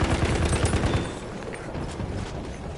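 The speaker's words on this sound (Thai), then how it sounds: "ปืนกล" Rapid machine gun fire rattles in a PS4 shooter game, loud and close, in dense bursts that ease slightly after the first second while the gunfire keeps going.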